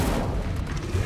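An Incendio fire spell cast in the Hogwarts Legacy video game, heard as a loud, deep burst with a booming low rumble that holds steady through the short moment.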